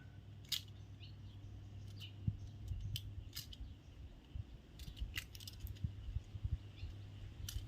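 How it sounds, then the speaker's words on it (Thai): Electrical wire insulation is stripped for a homemade power extension strip, giving faint, sparse clicks and small scraping snips close by over a quiet background hum. "ก็มาปอกสายนะผม ปอกสาย"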